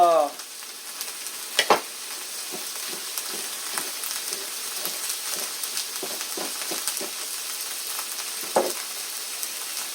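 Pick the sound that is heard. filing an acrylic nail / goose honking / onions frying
onions frying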